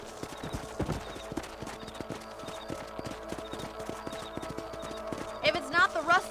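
Horses' hooves clip-clop in a steady, even rhythm while riders travel in the Western game Red Dead Redemption, with a horse whinnying near the end and background game ambience throughout.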